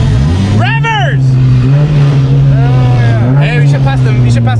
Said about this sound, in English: Revving.